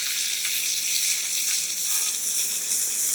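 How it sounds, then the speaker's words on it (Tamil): Onions sautéing in oil for chicken pulao, a steady close sizzle with a bright hiss and no talking. "இது கூட அப்படியே வெங்காயத்தை போட்டு வதக்கிக்க"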